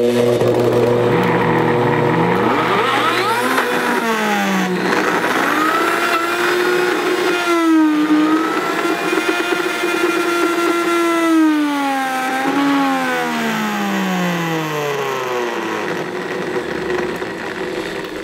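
A Vitamix or Blendtec blender grinds almonds into nut butter, its motor droning loudly and steadily with pitch sliding down and up as the thick mixture loads and frees the blades, without talk.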